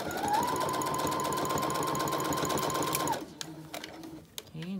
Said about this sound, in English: I'm gonna sew more on this side so that I don't see the stitching that I put here